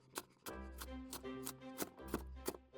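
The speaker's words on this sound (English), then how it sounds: "chop them to all roughly the same size" A knife chops through carrots, onion and celery on a board in a quick, uneven series of close, crisp strikes, with nine or so distinct thuds.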